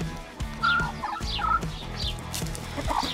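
Several chickens cluck and murmur nearby in short, overlapping bursts on a New Zealand farm, with a few higher chirps and light rustling around them.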